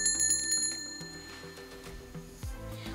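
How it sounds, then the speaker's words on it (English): A bright bell rings with rapid repeated strikes at first, then its tone lingers and fades amid a low, steady hum. "When the bell rang a knock-off"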